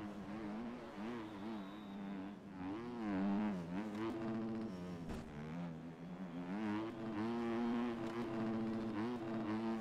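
A Yamaha 250 dirt bike engine revving hard on the throttle outdoors, its pitch rising and falling in waves as it accelerates, loud and close throughout without talk.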